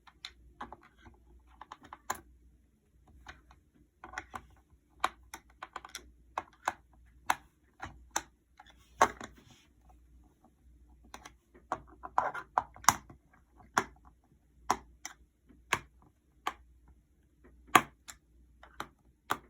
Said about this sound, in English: Then you use your screwdriver and then just have to screw out every single screw.